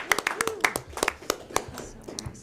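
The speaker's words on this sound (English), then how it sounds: "Yeah, we can clap for that." A handful of people at a board of trustees meeting give a short round of scattered hand claps, uneven and close, with voices talking over them.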